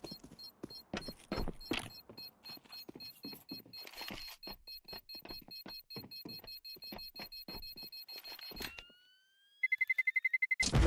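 Counter-Strike bomb timer beeping in steady, fairly loud pulses during a pro match, then falling briefly silent before a rapid high-pitched burst of beeps at the end.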